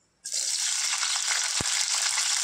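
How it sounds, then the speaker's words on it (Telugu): Green chilies are dropped into hot oil, erupting from silence into a loud, continuous, close-up sizzle that holds steady with one soft thud midway. "ఆయిల్ హీట్ అయింది, మిర్చి ఫ్రై చేసుకుందాం."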